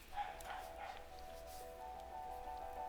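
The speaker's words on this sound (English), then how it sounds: "I don't know why my dog's barking." A dog barks and yips a few times in the background, faint and somewhat distant, over a steady electronic hum.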